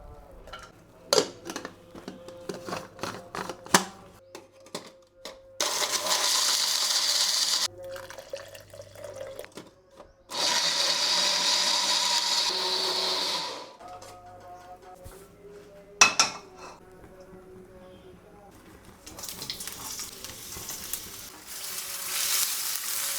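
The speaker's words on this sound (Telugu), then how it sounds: "వీటన్నిటిని కొంచెం వాటర్ యాడ్ చేసుకునేసి స్మూత్ పేస్ట్ లాగా గ్రైండ్ చేసుకుంటున్నా." A kitchen mixer grinder whirs in three loud, steady bursts, blending cashews, cardamom, poppy seeds, dried coconut, spices and a little water into paste, separated by quieter gaps of clinking and handling noises.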